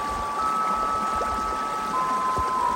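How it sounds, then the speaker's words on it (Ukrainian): Flowing water of the Bushanka river near the village of Busha, a steady broadband rush with faint trickling detail running continuously and evenly, with no voices over it. "А зараз порелаксуйте під шум води"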